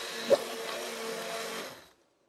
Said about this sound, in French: Ensuite, vous mixez le tout avec un mixeur plongeant.